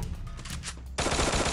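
Rapid automatic gunfire in a first-person shooter game, a dense burst of overlapping shots that jumps louder and brighter about a second in and keeps going without a break.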